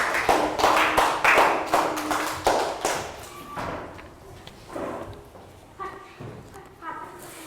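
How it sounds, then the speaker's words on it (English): A classroom of young pupils claps in a short burst of applause during a science lesson, the clapping dense at first and then thinning into scattered claps as voices talk over it. "Round of applause for Net."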